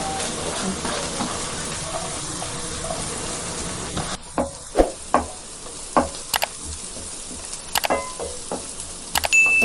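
Onions and mustard seeds fry in hot oil with a dense, steady sizzle that later thins out, broken by sharp clicks and scrapes from stirring.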